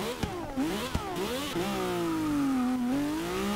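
Honda race car engine revving in Forza Motorsport 6 on a track, with rising and falling pitch sweeps across gear changes, sharp shift blips, and a steady mid-range drone, no talking.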